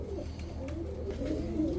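Pigeons kept for sale, including Pakistani Teddy, Rampuri and Budapest breeds, coo in soft, low, rolling calls close by, repeating over a steady background hum with no talking.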